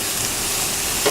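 Butter sizzling steadily in a hot pan before asparagus goes in, a close, even crackling hiss that fills the short moment without any talk.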